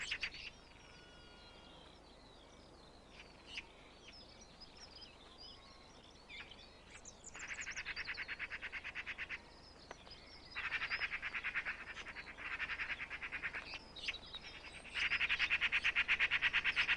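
Magpies calling in open countryside near a carrion carcass that foxes also visit: bursts of harsh, rapid chattering calls at moderate distance, repeated in several spells separated by quieter gaps with faint other birdsong.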